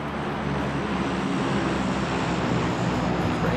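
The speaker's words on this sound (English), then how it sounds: "Plane." A propeller airplane drones past overhead in PUBG, a steady broad engine roar that stays fairly even and moderately loud for the whole stretch, with no talk over it.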